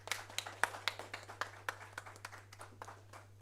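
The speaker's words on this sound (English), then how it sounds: "A warm round of applause for him." Scattered audience applause at a radiotherapy conference as a speaker takes the stage: a modest, sparse patter of individual claps over a steady low hum, fading out toward the end.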